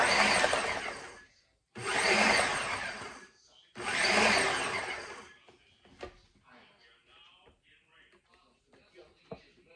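A food processor chops cauliflower in three loud, whirring pulses, each lasting about a second and a half with short gaps between, followed by softer clicks and handling knocks.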